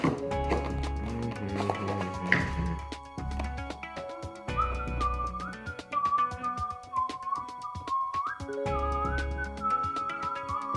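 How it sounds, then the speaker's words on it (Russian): A person whistles a wavering, tuneful melody in the second half, over a background of steady musical tones and low thumps. "Охуенно свищу."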